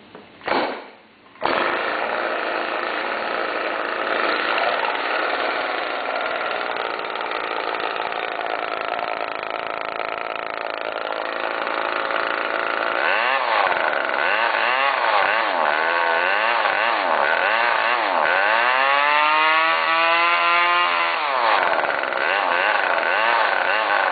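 A weedeater-engine bike with a modded muffler is pull-started after a short cough, then runs loud and close for over twenty seconds, its raspy two-stroke note rising and falling as the throttle is blipped and revved up near the end.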